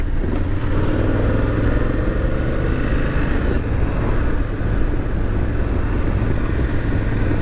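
A motorcycle fitted with a new aftermarket exhaust rides steadily, its engine drone and wind rumble loud and continuous throughout, without speech.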